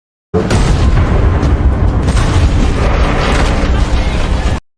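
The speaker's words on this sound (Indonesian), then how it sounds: "dua mobil pasukan cepat tanggap yang datang, kembali meledak saat memasuki kawasan ranjau" Vehicles exploding on landmines, a loud, sustained explosive roar with rumbling booms and crackling debris, continuous for several seconds before cutting off.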